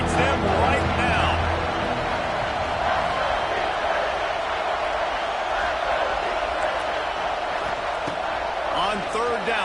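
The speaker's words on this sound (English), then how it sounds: "This crowd knows this defense needs them right now." A college football stadium crowd roars for the home defense in a game against the Gators, a dense, steady wall of noise running under a commentator's talk.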